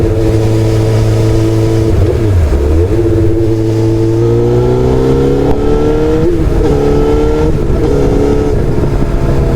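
A 2011 Honda 600 Hornet motorcycle engine climbing a mountain pass, its steady loud drone rising and falling in pitch through gear changes and throttle shifts, close and continuous with no talk.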